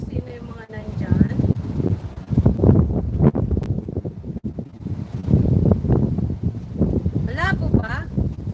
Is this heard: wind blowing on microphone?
yes